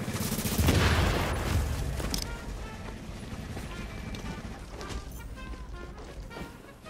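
Gunfire from the video game The Division, a dense burst of rapid shots loudest in the first couple of seconds, then continuing as scattered, busier game combat noise throughout.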